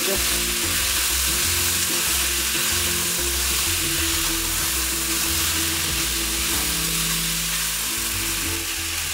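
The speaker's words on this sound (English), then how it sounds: "Okay, so now I'm gonna add the peas. Just stir them a little bit." Peas sizzling loudly in a hot pan while being stirred for Italian pasta e piselli, a steady close frying hiss with scraping stir sounds and no talk.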